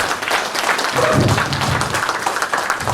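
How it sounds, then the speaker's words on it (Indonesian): Audience applause at a business success seminar fills the room as steady, dense clapping for the full three seconds, with some low murmuring and voices mixed underneath. "Tepuk tangan untuk BUP kita semua."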